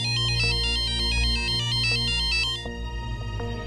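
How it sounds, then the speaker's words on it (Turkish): A telephone rings loudly with a repeating electronic melodic ringtone, close and continuous, shifting to a lower pattern near the end. "Telefon."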